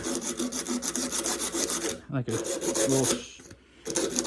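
A wooden longbow tip is sanded with a strip of DA sandpaper, giving rapid rhythmic rasping strokes, close and loud, with brief pauses between bursts.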